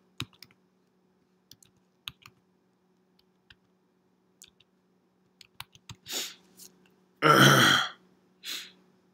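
Scattered keystrokes tap on a computer keyboard, sparse and close, followed by a few louder breathy bursts and a throat-clearing noise at the end.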